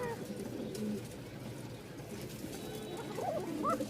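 A Giribaj pigeon gives soft cooing calls, faint and close amid low background noise, with a few rising warbled notes near the end and a voice murmuring.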